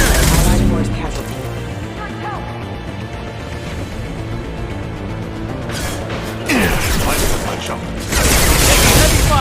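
Rapid gunfire bursts and booms in a Mass Effect 2 combat scene, loud and close, coming in clusters with short lulls, mixed with mechanical clanks and game sounds.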